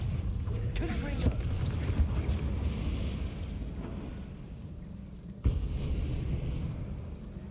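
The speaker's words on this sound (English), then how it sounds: "We're so strong, boxes just explode around us." Boxes burst and spells blast in Hogwarts Legacy under a steady bed of game sound, with one sharp, loud explosive hit standing out near the end and a few softer thumps earlier.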